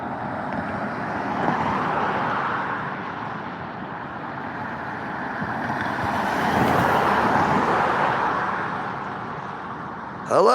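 Steady road traffic noise, cars and trucks rolling past in a continuous broadband roar that swells and eases without pause, fairly loud and with no voices over it.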